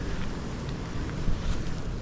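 Gusty wind blows across a lake during perch fishing just after a hurricane, a steady rough rush buffeting the microphone with a swell near the end and no one talking.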